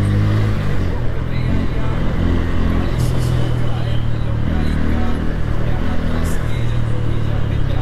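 An old Rolls Royce drives along a Kolkata city road with a steady, loud low engine drone that builds gently as it gathers speed, while someone talks over it.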